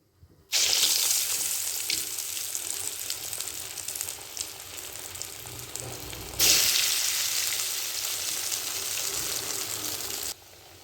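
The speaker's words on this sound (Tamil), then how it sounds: "மீடியம் ஃப்ளேமில் இந்த எண்ணெயில் வடைகள்லாம் நல்லா பொரியட்டும்" Lentil vadas deep frying in oil over a medium flame: a continuous crackling sizzle that swells louder partway through, then eases off.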